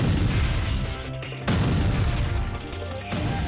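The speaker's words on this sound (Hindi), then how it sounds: "तोप की गर्जना ऐसी जिसने हमले की तासीर बदल दी" Cannon artillery fires in wartime: two heavy booms land about a second and a half apart, each giving a loud, deep blast with a rumbling decay.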